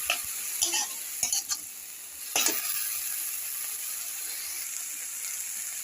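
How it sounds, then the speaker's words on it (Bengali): Drumstick flowers frying in a pan make a steady close sizzle, with a few quick scraping and clinking stirs early on before the frying hiss continues alone. "ফুলগুলো আমার ভাজা হচ্ছে, আর একটু ভাজা হবে।"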